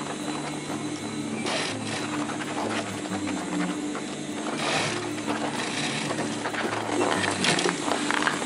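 A sewing machine stitches a rollup bag, a busy mechanical clatter with rapid ticking and whirring that runs steadily throughout at moderate loudness, with no voices.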